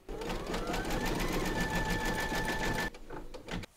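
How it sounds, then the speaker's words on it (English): An embroidery machine stitches a green surfboard design, giving a rapid mechanical chatter with a rising whine that runs steadily, then cuts off abruptly near the end before a few brief clicks. "Load your matching bobbin and thread colour for the surfboard into your machine, and then stitch round number 11"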